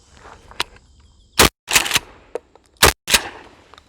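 Two loud shotgun blasts from a home defense shotgun firing Federal rounds, each a sharp broadband crack with a short tail, spaced about a second and a half apart amid faint background noise.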